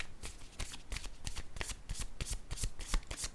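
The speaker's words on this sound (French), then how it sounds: "Je vais piger une autre carte." A deck of playing cards being shuffled and a card drawn, with quick, crisp riffling bursts close up and no talk.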